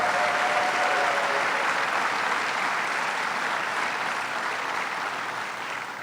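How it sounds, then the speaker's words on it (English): Audience applause at a governor's announcement on completion of Greater Rochester International Airport, a dense, sustained clapping from a large crowd that fades slightly toward the end. "let's give her a big round of applause."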